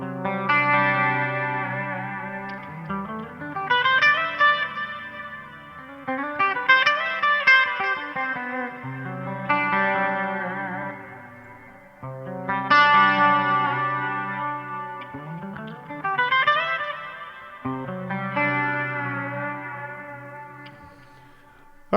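A clean-toned electric guitar through a Tone Master Pro preset plays slow swelling chords bent with a whammy bar, wavering in pitch, with chorus and echo shimmering around each phrase, alone and fairly prominent.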